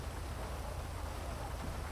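Rain falling in a city patrol scene in GTA V, a soft, steady wash of drops pattering on surfaces with a low rumbling undertone, faint and unbroken with no voices.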